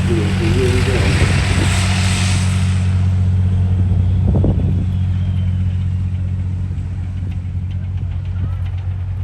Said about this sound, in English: So the M60s, you can hear that very distinctive engine noise in the back.